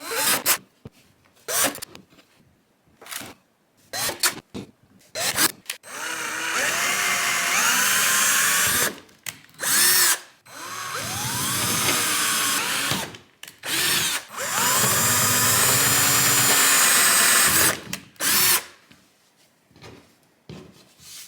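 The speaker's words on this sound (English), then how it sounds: "I'll just pre-drill it with a little one and then drill with the bigger one." A power drill whirs in several bursts of a few seconds each, first a small pilot bit then a larger bit through a Pelican Mission 100 sit-in kayak, pitch rising as it bites in, with short pauses and handling clatter between runs.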